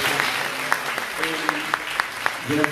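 Applause from a poetry-night audience in Tunis fills the room, a dense wash of clapping with a few sharper claps standing out and voices mixed in.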